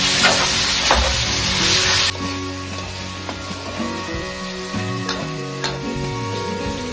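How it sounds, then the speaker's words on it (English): Bacon sizzling and frying in melted butter in a pan for carbonara, a steady close crackle with occasional stirring clinks, no voices. "the butter is melt and we're gonna put the bacon. Let's wait until it gets cooked."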